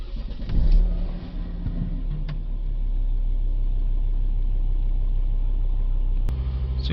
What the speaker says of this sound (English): Now we're going to need to start the vehicle up.